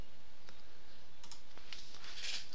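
A computer mouse gives a few sharp, faint clicks spaced across a quiet office moment, isolated and close with no speech.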